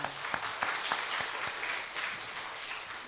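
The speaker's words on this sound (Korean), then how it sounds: "우리 박수하겠습니다." A church congregation at a Sunday worship service claps after a praise song, a steady, even wash of applause across the whole stretch with a few sharper individual claps at the start, moderately quiet and without speech.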